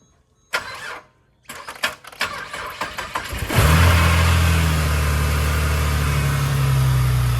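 Ford FG Falcon after a starter motor refit, a few clicks and short cranking bursts, then the engine catches and settles into a loud, steady low idle, close by, with no talking.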